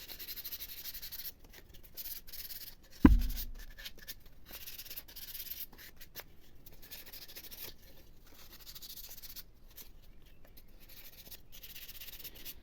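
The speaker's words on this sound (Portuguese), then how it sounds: "nós vamos passar uma demão de lixa bem de levezinho para tirar os arrepios da madeira" Sandpaper lightly rubbed along the grain of sealed wood to knock down raised fibers. Soft strokes come in a quiet rhythm, with a single sharp knock near the start.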